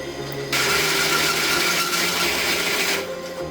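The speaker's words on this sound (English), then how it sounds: "I'm going to drill a big 1 3/4 inch hole right here that the next tube will drop over" A power drill bores a big 1 3/4 inch hole in a tube while building a truck tailgate extension, a loud steady whirring burst lasting a few seconds over a faint machine hum.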